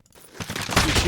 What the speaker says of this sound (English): You shoot me through the tree.